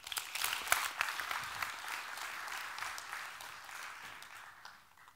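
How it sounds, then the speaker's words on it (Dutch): Audience applause following an introduction at a Dutch lecture evening on neuroscience, a sustained wash of clapping that starts full and gradually thins and fades toward the end, with no speech over it. "Graag een hartelijk applaus voor Marijn Kroes."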